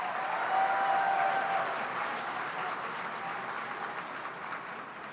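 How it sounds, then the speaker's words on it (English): Gala audience applauding Speaker Tina Kotek at an LGBTQ Victory Fund anniversary event, a full, even round of clapping from a large room that tapers slightly over five seconds. "Can we please give her a round of applause?"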